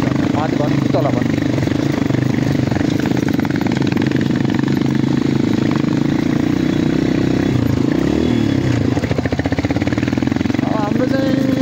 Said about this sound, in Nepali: हाम्रो चाहिँ बाइकहरू अब क्रसफायर